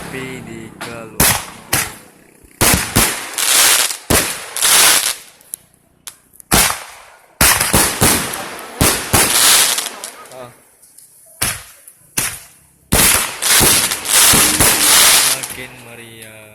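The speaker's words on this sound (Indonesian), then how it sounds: "suasana malam Gunung Agung yang dimeriahkan dengan kembang api." Fireworks explode over a festive night at Mount Agung, loud sharp bangs fired in rapid uneven bursts with short gaps and crackle between them, no talking heard.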